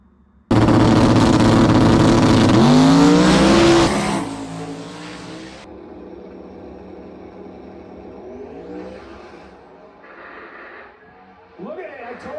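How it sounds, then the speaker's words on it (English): A Mustang limited drag radial race car launches at a drag strip with a sudden, very loud engine roar and rising pitch as the tire spins, then fades into the distance while commentators talk over the crowd. "That thing was whipping that tire trying to get it to hook."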